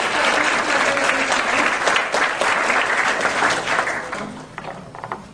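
A room of people applauds a financial engineering panel at its opening, dense steady clapping that tapers off toward the end as a few scattered claps remain.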